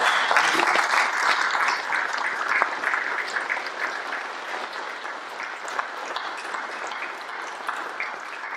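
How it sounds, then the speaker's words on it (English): At a community meeting with certificate presentations, an audience claps for volunteers: a full, steady round of applause that starts strong and gradually softens while staying continuous throughout. "join me in a round of applause for those"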